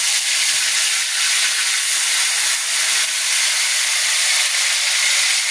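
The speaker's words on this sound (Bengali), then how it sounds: "এখন আমরা কড়াই তেল ছাড়ছি, তারপরে চিকেনটা আমরা ভেজে নিচ্ছি।" Marinated chicken frying in hot oil in a wok for a roast dish makes a loud, dense and unbroken hiss of sizzling that holds steady throughout.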